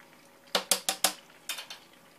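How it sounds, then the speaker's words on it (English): A spoon clinks against a bowl while milk is stirred for homemade cinnamon rolls: four quick sharp taps, a pause, then three lighter ones, close and alone with no voices. "and then stir milk together"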